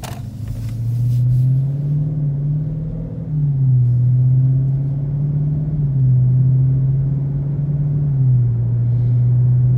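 A 2016 Dodge Charger SRT 392 V8 in eco mode burbles through a full U-turn, its low rumble swelling and easing in slow, repeated throttle waves. Close and steady, with no talk.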